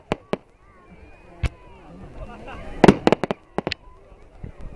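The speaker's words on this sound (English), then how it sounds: "This is an amazing fireworks" Bonfire Night fireworks explode in scattered sharp bangs and cracks, with a dense crackling burst near the end, over a background of crowd noise and distant voices.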